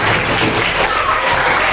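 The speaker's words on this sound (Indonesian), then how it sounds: "Tepuk tangan" A classroom of students claps together in a loud, brief burst of applause that fills the room, with some voices mixed in.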